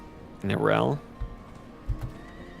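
In the video game Diablo 4, a horse gives a loud, close whinny that rises and falls for about half a second, followed by two soft hoof thuds.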